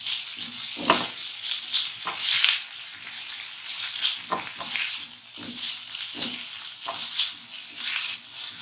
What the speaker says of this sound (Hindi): अब हमने इसको भी अच्छी तरह से फ्राई करना है